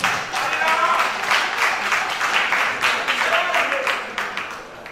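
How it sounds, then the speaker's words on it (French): Audience applause for a trumpet player at a quarter-final trumpet competition, a steady dense patter of clapping that holds for the whole stretch, with a voice faintly mixed in. "Applaudissez pour lui."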